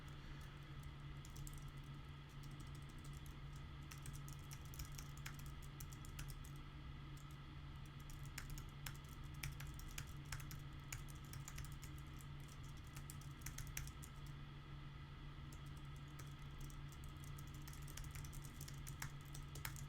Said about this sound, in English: I know that hearing me typing is probably very boring